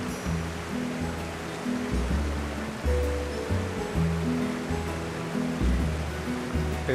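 A river rushing past a waterfall, a constant loud roar of water, with overlapping low tonal tones that could be birdsong or other nearby sounds.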